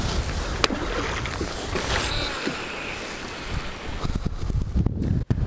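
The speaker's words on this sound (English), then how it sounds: "that wind is blowing." Wind blows steadily across a lake, buffeting the microphone with loud broadband rushing and a few gusty thumps, with no talking.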